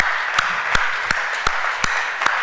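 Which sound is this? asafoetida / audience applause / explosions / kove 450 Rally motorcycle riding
audience applause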